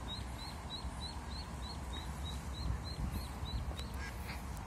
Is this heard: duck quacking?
yes